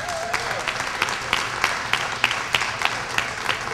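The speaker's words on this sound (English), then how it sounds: "Please join me in a big round of applause for Mr. Kevin Bamford." Audience clapping at a mayor's healthy cookoff event as a wellness team member is introduced, a steady moderate patter of many hands with a few sharper claps standing out.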